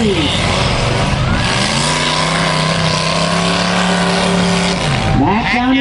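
At a 2010 demolition derby in Bolton, Ontario, cars rev hard in a loud, continuous roar with rising and falling engine pitch, a crowd and announcer audible beneath.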